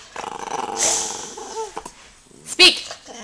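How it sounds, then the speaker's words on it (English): A dog growls and gives short yips and barks while doing tricks on command, with rising whiny tones and a sharp bark near the end, close and moderately loud, with brief human voice sounds mixed in. "Good boy, little curly bark."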